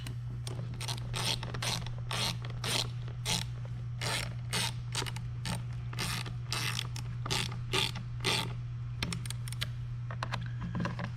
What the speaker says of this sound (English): you can go ahead and tighten down the bottom bolts